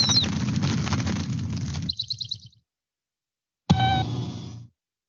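Small birds chirp and tweet in a dense, steady chatter that cuts off, then returns briefly after a silent gap, close and clear with no voices.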